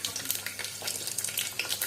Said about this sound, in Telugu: కొంచెం చిట్టపట్లు ఆడుతున్నప్పుడు మిరపకాయలు వేసుకుందామండి